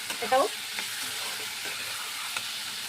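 Potatoes and elephant foot yam sizzle in hot oil, a steady bright hiss with a brief burst of crackling at the start, then an even fry under faint background sound.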